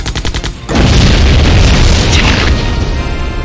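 A deep, loud explosion booms in the video game Septerra Core, cutting in sharply after a short run of rhythmic pulses and rumbling on for a few seconds as it slowly fades.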